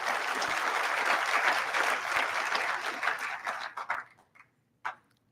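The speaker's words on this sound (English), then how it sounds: "please give her another round of applause." An audience applauds at a high school scholarship ceremony, with sustained clapping that thins out and trails off into a few scattered last claps and a brief knock near the end.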